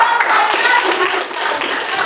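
A class clapping their hands in a Qur'an Hadith lesson, a short burst of fairly close, loud clapping from a small group with uneven rhythm, fading slightly toward the end.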